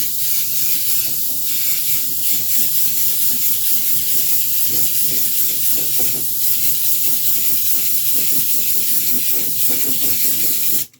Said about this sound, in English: I'm just going to mist on a very light coat of this.